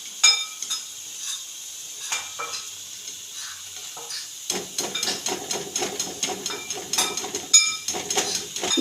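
Cauliflower pakoras for Gobi 65 fry in hot oil with a soft hiss, while utensils stir and clink in a scattered rhythm. The sizzling grows busier and louder halfway through.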